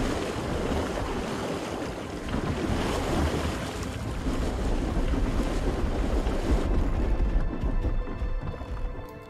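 Water surging and washing in Last Oasis gives a loud, continuous rushing wash with gusty, wind-like roar that eases slightly near the end.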